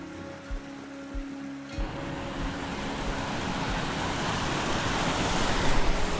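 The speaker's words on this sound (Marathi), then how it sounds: "आवाज असेल तर तो फक्त पाण्याच्या खळखळीचा." Gurgling stream water in Juta Valley, Georgia, starts as a faint trickle with a few soft knocks, then swells into a loud, continuous rushing that fills the foreground, with no speech.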